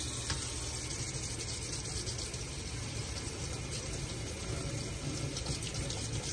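Hot water runs from a tap in an Autocruise Pioneer Monet motorhome, a constant, loud, close rush of flowing water with no pauses or speech.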